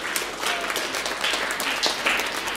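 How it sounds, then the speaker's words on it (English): An audience at a school creative arts and science fair claps for fourth graders, producing a brief, moderately loud burst of mixed applause. "let's go ahead and clap for all of fourth grade"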